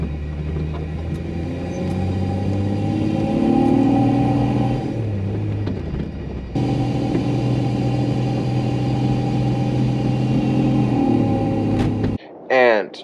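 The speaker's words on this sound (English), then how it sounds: "The biggest con I have found in the 3 months is that the sound of your engine is a lot more audible." Jeep XJ with a 4.0 inline-six fitted with a cowl intake runs steadily with a mid-pitched drone and whine, a brief dip in the middle, and someone talks over it throughout.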